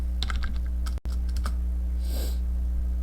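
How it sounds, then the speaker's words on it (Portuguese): Keys clatter on a computer keyboard as commands are typed into a PowerShell terminal, a quick burst of close, crisp keystrokes in the first second and a half over a steady low hum. "É para eu digitar vários comandos."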